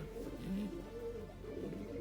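A breeding pair of pigeons in an aviary coo softly and steadily over a low, constant background hum, with no one speaking.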